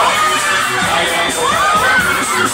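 A crowd at a dance show shrieking and cheering nonstop, loud and close, with high-pitched squeals and excited voices layered on each other.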